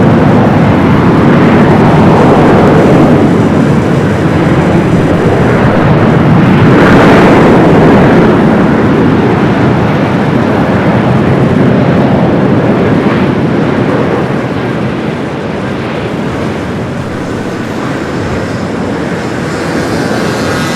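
An airliner touching down on runway 24 right on the north side of LAX, a loud, sustained jet roar that swells and then gradually eases as the aircraft rolls out.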